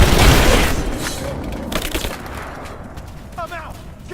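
Video game combat in Rise of the Tomb Raider, opening with a heavy booming blast that decays into scattered gunshots and rumbling, loud and close, with shouted voices in the mix.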